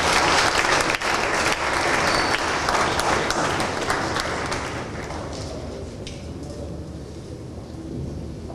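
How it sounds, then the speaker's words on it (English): A crowd at a televised nation-building briefing in Ghana bursts into loud applause that runs for several seconds and then gradually thins and fades toward the end. "Please give her a round of applause."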